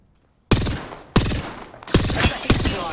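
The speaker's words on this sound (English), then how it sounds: "They're shooting at us." Four loud, sharp gunshots ring out in Apex Legends, each cracking out of silence and trailing a short echoing tail, spaced irregularly over about two and a half seconds.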